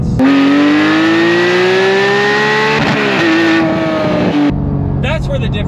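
A Porsche 718 GT4's four-liter engine, mounted right behind the driver's head, revs loud and close, its pitch climbing steadily before dropping off, then a brief sharper burst near the end.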